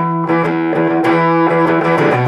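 A distorted electric guitar plays a riff, loud and sustained, with several chord changes and strummed attacks over about two seconds, no voices.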